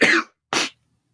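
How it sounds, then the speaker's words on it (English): Two short, dry coughs from a person with a lingering cold, close and fairly soft, separated by a brief pause and followed by silence. "I still have a remnant of a cold from last week left, so coughing a little bit."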